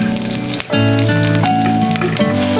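Onion and a ground spice paste of chili, cardamom, cinnamon, ginger, garlic and cumin fry in a pan, with a steady sizzling hiss running under loud, tonal background music.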